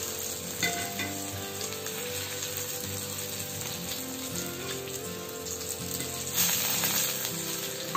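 Garlic frying in a small amount of oil for a home-made fish fry crackles with a dense, steady sizzle that flares a little louder near the end, heard up close with no talking.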